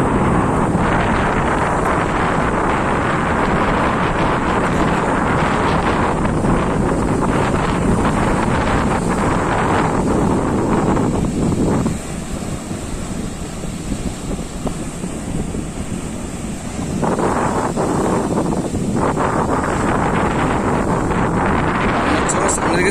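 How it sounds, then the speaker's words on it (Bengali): Rough seas pound a beach under a low-pressure system, a loud, continuous roar of surf and heavy wind buffeting the microphone, with a softer stretch midway before the crashing surges build again. "সামনে একটা নিম্নচাপের ব্যাপার রয়েছে, তো সেই কারণে সমুদ্র উত্তাল ভাব রয়েছে পুরো।"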